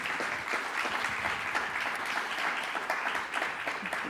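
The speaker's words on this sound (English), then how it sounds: "We can give that a big round of applause." An audience breaks into a big round of applause, dense and sustained clapping from a crowd that stays at an even, full level throughout.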